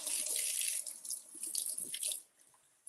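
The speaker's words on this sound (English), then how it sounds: "let's wash our cucumber and slice it" A cucumber washed under a running tap, a hissy splashing stream that shifts as it is handled, then drops to quiet at the end; close and soft.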